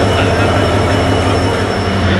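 A train at Jaffna railway station, a loud continuous rumble of rolling wagons with steady rail noise and a faint high wheel squeal throughout.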